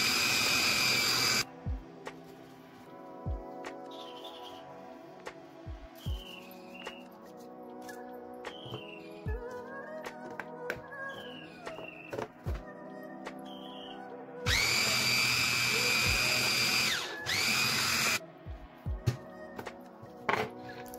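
A blender grinds a tofu mixture for a meat-flavored tofu steak, roaring in two loud bursts at the start and near the end, with a quieter stretch of soft clicks and tones between them.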